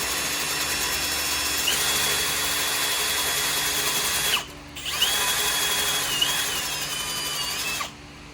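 Power tool grinding a metal surface clean on a Mercedes-engined kart before welding in an AFR gauge bung, a loud continuous whine in two long bursts separated by a brief pause.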